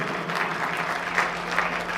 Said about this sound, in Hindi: प्रेम से ताली बजाओ आप लोग महाराज।